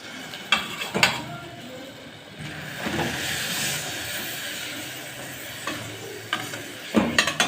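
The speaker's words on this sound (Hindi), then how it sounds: "इस तरह से हिलाते हुए बस 1 से 2 मिनट में ही हमने इसे निकाल लेना है" Fried khaja sweets are stirred around in sugar syrup: a soft, bubbling sizzle runs underneath while sharp clinks and scrapes of the utensil against the pan come in scattered bursts, close by and without speech.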